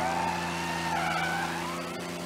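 A stolen car in Mafia: Definitive Edition revs hard while its tires squeal and skid, a loud continuous engine tone with wavering screeching pitch and no talk.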